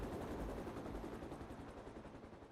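A chopper in the video game The Mummy Demastered, a faint, steady rotor thrum with rapid chopping pulses throughout, gradually easing off.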